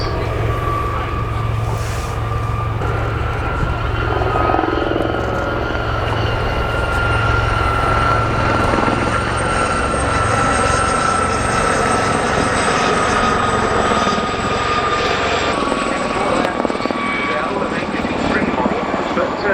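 Gazelle helicopter flying at the RAF Cosford airshow, a loud steady rotor and turbine drone with a sustained whine, continuous throughout, heard together with a commentator speaking over a public address.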